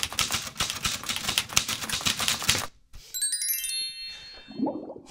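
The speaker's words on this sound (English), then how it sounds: "when you type something in a typewriter" A typewriter clatters in a rapid, loud burst of key strikes for a few seconds, then stops, followed by bright ringing bell tones and a softer tinkling flourish, with no voices.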